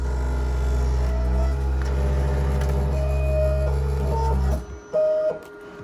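A Graphtec cutting plotter with an auto sheet feeder powers up, giving a steady mechanical hum with whirring motor tones and rising pitch sweeps, then stopping abruptly before a brief final whir.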